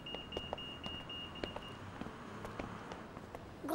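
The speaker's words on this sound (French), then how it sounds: "ça veut dire quoi le bip bip bip?" A pedestrian crossing signal beeps in a regular repeating pattern at a street crossing, with traffic noise and light footsteps around it.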